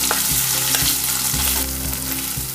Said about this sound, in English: add the mashed potato, a bowl full of mashed potato. Mix it well in the oil.